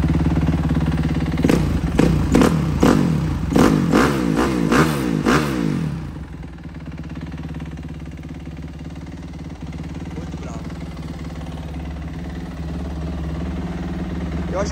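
A 2008 Suzuki RMZ 250 motocross bike fires up and revs in several sharp, loud bursts over about six seconds, then drops to a steady, rough idle that continues to the end, close to the listener.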